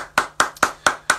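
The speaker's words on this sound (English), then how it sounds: "Everybody, give them a massive round of applause." A few people clapping at a live comedy show at Glastonbury, five distinct, evenly spaced claps in a slow rhythm, close and crisp with nothing else heard.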